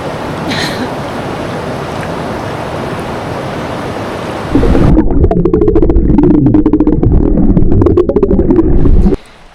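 River water rushes through Clarendon Gorge on the Appalachian Trail in a dense, continuous roar that grows louder and closer halfway through, then cuts off abruptly at the end.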